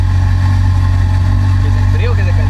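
McLaren 720S Spider idles with its exhausts opened, a deep steady low drone throughout, with a voice speaking briefly over it near the end.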